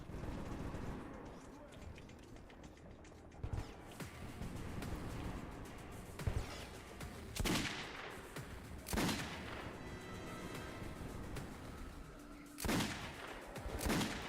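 Repeated gunfire in a shooting video game, several sharp loud shots spaced irregularly across the stretch, some in quick bursts, over a low background.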